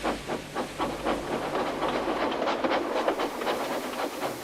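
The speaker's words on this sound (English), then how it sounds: "Soon, Edward steamed into the yards." A steam train pulling into rail yards, with rhythmic chuffing bursts of steam and a hissing wash that speed up and grow denser, fairly loud and close.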